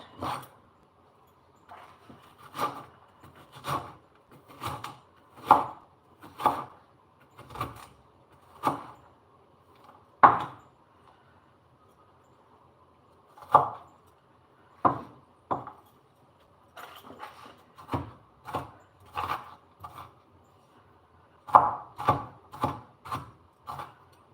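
Knife chopping onions on a board in a home kitchen: a steady run of sharp, close taps in uneven bursts with short pauses between, clear and fairly loud, no talking.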